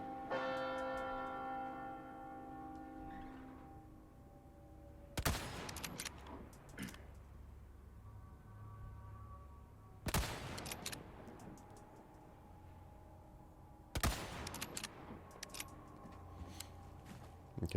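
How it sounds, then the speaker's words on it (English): Sniper rifle shots in a Hitman mission set in Chicago, three sharp, loud cracks spaced several seconds apart, each followed by a ringing tail, over a quieter tonal game background. "Take care of these guys with your sniper rifle."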